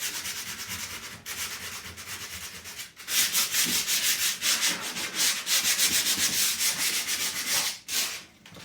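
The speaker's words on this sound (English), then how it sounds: "I am going to kind of sand it a little bit just to get it smooth" Sandpaper is rubbed over a wooden farmhouse furniture surface in close, rhythmic back-and-forth strokes that grow stronger after a brief pause, with no voices.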